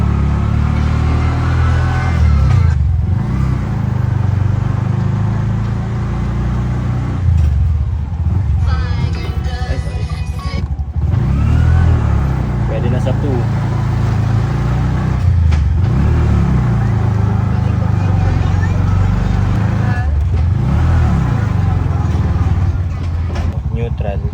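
A Bajaj RE auto rickshaw's engine drones close and loud during a drive test, rising and falling as it revs through gear changes, with someone talking over it much of the time.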